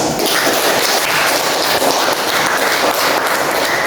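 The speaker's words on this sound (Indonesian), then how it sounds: "Ya, tepuk tangan." A classroom of students claps in a loud, dense, steady burst of applause that runs unbroken throughout, with no talking over it.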